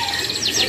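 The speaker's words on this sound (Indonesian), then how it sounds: "Ini dia sebagian stok untuk kenari yang AF jadinya." Canaries chirping at a bird market stall in Pramuka Matraman, Jakarta, a brief bright run of high tweets and trills over a low background murmur.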